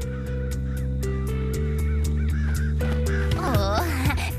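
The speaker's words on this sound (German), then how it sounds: "Oh, eine Krähe." A crow caws several times in an animated cartoon, harsh calls layered over loud sustained music, with a voice briefly heard.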